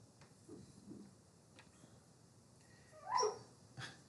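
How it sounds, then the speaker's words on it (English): A sleeping dog gives soft, muffled woofs and whimpers while dreaming, several faint yips followed by one louder bark near the end, in a quiet room. "Do you hear my dog's having a dream? So she's barking."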